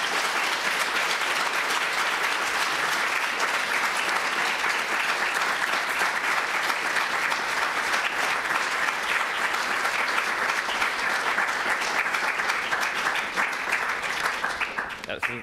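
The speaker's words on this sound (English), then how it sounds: "can we get a round of applause for our amazing panelists?" A seated audience applauds panelists at a college event, a long, loud, even wave of clapping that holds steady before tapering slightly at the end.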